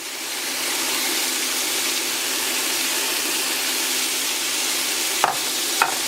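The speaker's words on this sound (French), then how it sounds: "on vient ici secouer un peu les légumes pour ne pas qu'ils crament" Vegetables fry loudly and steadily in a pan, a dense continuous sizzle, then two sharp knocks near the end as the pan is shaken to toss them.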